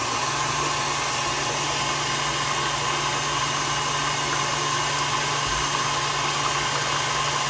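Batter for a pumpkin pecan crisp is mixed with a motor-driven mixer. It gives a steady, loud, close whir that holds an even drone for several seconds, with no talking over it.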